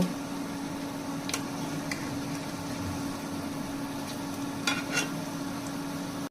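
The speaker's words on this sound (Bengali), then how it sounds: "চুলার তাপটা মিডিয়াম আঁচে রেখে পেঁয়াজগুলো ভেজে নিচ্ছি" Red lentil and onion fritters (piyaju) frying in hot oil over medium heat, a soft, even bubbling hiss with a steady low hum beneath and a few sharp utensil clicks, no speech.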